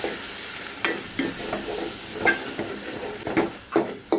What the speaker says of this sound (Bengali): সবগুলো দিয়ে দিচ্ছি পরে ভালো করে এখন মিক্স করে নিচ্ছি